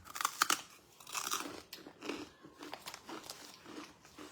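Raw, uncooked dried fish (tuyo) is chewed close up, with crisp crunching bites and soft crinkling in an irregular rhythm, fairly quiet and without talk.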